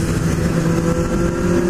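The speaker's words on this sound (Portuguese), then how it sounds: "Muitos carros." Engines of passing traffic rumble close by, a continuous loud motor drone with cars and motorbikes moving through.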